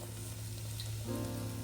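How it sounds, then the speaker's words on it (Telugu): Ghee-fried pumpkin (kaddu) slides into a pot of milk for kheer, setting off a steady, close sizzle that holds for the whole moment with no voices. "ఇప్పుడు గీలో ఫ్రై చేసుకున్న కద్దు పాలల్లో వేసి"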